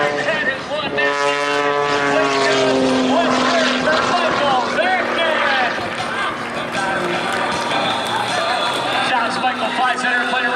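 Aerobatic propeller airplane performing at an air show, its engine droning with rising and falling pitch as it dives and rolls in the distance, while an announcer talks continuously over the sound of the crowd.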